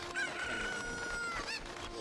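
A cucco chicken in the video game The Legend of Zelda: Ocarina of Time gives a loud, sustained squawking cluck, close and clear, with game background sound underneath.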